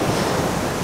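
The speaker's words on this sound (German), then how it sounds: "wow, diese Welle." Sea waves surge and crash near the Strait of Messina, a loud steady roar of surf with strong wind buffeting the microphone throughout, no voices.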